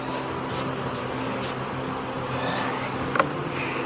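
Honey bees buzzing around a honey super as frames are lifted out of a hive, a steady diffuse drone with a brief knock near the end.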